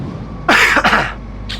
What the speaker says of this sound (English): As you can tell, I still have my fantastic cough.